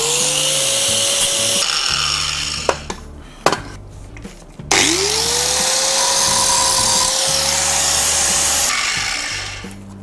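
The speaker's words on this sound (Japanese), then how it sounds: "切るところはここですね、ここ、こんな感じで切っていくか。" A power tool cutting a Recaro car seat rail, a loud close whining grind that winds up and down, stops briefly for a few sharp metallic knocks, then spins back up and keeps cutting.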